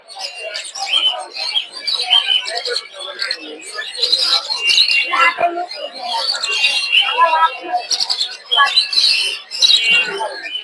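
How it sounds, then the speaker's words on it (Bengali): Dense, continuous chirping and tweeting from many budgerigars at the Mirpur 1 bird market in Dhaka, lively and close, with a busy crowd of voices mixed underneath. "পাখিগুলো এদিকে আছে হচ্ছে বাজিগার"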